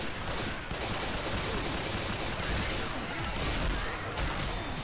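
Rapid, dense gunfire from a pump shotgun in a video game, a loud continuous barrage of overlapping shots with no pauses.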